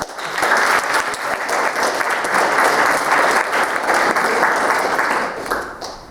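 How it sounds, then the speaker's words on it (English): A warm round of audience applause welcomes architect Malcolm Fraser to a lecture in Edinburgh: loud, dense clapping swells quickly, holds steady for about five seconds, then begins to taper. "Please join me to welcome Malcolm back with a warm round of applause"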